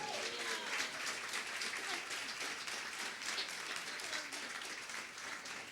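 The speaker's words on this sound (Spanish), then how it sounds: "Dale un fuerte aplauso al Señor por eso." A congregation at a church service gives steady, dense applause that holds evenly throughout, heard at a distance and fairly quiet, with a little indistinct voice mixed in.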